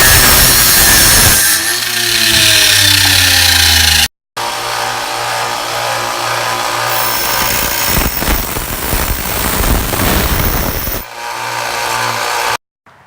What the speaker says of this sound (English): So I've got a little saw here, and I just line it up,